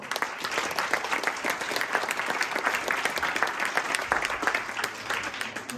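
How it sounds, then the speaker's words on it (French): A conference audience applauding at the end of a talk, sustained, dense clapping from a sizeable crowd, steady and fairly loud for the whole stretch. "je vous propose d'applaudir une dernière fois"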